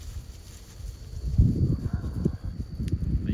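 Several horses, including a small one called Nugget and a buckskin, walk on a ranch in summer, their hooves clopping in an irregular close rhythm over a low outdoor rumble.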